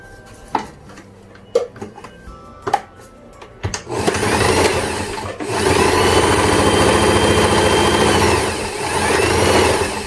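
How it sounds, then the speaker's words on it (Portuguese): A sewing machine stitches the bottom of a fabric clutch bag, beginning with a few separate clicks and taps before settling into a loud, steady whirring run at close range. "nós vamos fechar aqui essa parte de baixo com uma costurinha"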